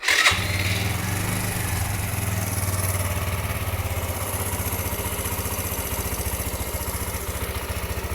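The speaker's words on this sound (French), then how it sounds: "Je dois démarrer la moto." A motorcycle engine cranked and started during a battery-drain check, catching after a brief starter burst and settling into a steady, rapid idle chug close by, with no talking.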